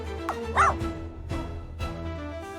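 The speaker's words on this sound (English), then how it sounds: "Poppop barking loudly to get Monster's attention." A dog barks a few times, sharp yips spaced out over a low droning background.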